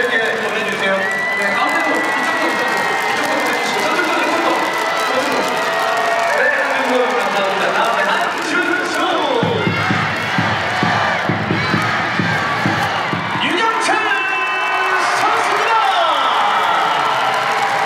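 Large stadium crowd at a Korean baseball game, a dense continuous roar of cheering and clapping that swells and falls, with a voice talking over the noise.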